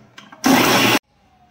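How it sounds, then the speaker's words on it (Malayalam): A kitchen mixer grinder whirs on coconut and onion masala in one loud, abrupt half-second burst that starts and stops sharply, with faint quieter sounds before and after. "ഇത് നമുക്ക് മിക്സിയിലിട്ട് നന്നായിട്ടൊന്ന് അരച്ചെടുക്കാം."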